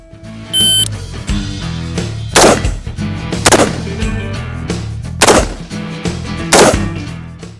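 Loud, close gunshots ring out during a timed shooting drill comparing an AR-15 rifle and a shotgun; about four or five heavy reports fire at irregular intervals, each leaving a ringing tail.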